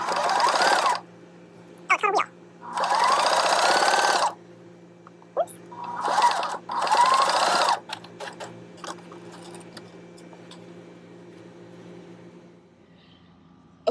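A sewing machine stitches a fabric face mask in several short bursts, each run loud and near with brief pauses between, followed by quieter handling noises.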